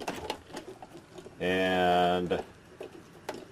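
A quarter-inch powered driver backs screws out of a control valve with one buzzing whir of about a second, close and loud, between stretches of someone talking.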